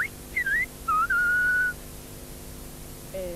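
A few rising and falling whistled phrases of the Silbo Gomero whistled language, then a long steady note, silence, and a faint final whistle.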